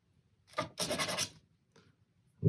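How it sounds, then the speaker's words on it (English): A small sandpaper disc rubbing the edge of a resin piece, giving brief close scratchy strokes: one short rub, a longer burst of rapid scrubbing, then a faint touch, set in near silence. "I'm just getting a little disc of sandpaper, giving it a quick rub"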